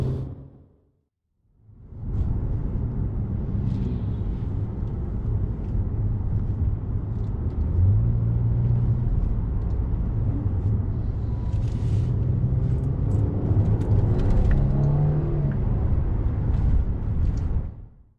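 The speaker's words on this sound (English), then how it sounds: "The BiTurbo V6 engine in this car makes a very pleasant sound." A Mercedes C400 4MATIC BiTurbo V6 revs up after a brief silence, its deep, loud engine drone swelling and holding with rising pitch sweeps as it accelerates, close and continuous for over fifteen seconds.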